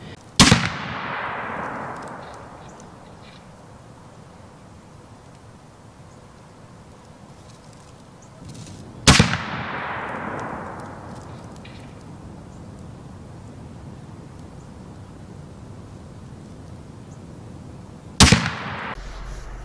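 Three sharp, loud rifle shots of 265 grain Hornady FTX LEVERevolution ammunition from a straight-wall cartridge lever gun, spaced about nine seconds apart outdoors, each followed by a decaying echo over a steady background hiss.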